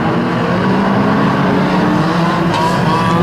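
Race cars roar around a short oval track during a Trackstar event, a loud continuous wash of engines with cars jostling and hitting each other in a corner, heard at a distance.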